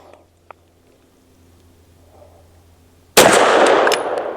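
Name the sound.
pistol gunshots, Tisas PX-9 firing MagTech 95 grain soft points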